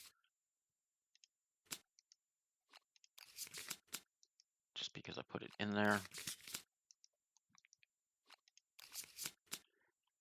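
Playing cards from a basic resource deck in a Kingdom Death Monster board game session being shuffled, with several bursts of quick riffling and clicking at close range, broken up by pauses and short bits of speech.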